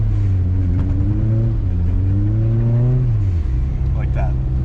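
A turbocharged Honda Civic revs hard in snowy conditions, climbing through several rising pitch sweeps before dropping off, followed by a brief hissing release near the end, with people talking over the engine.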